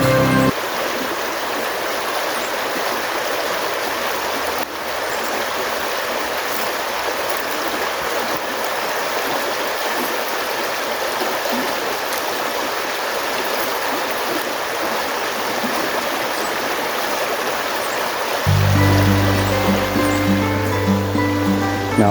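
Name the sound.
flowing stream water in woods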